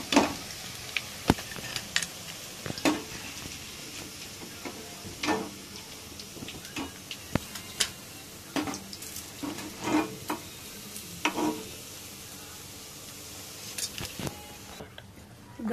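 Green chillies frying in oil sizzle softly and steadily, broken by frequent light ticks and clatters of stirring in the pan.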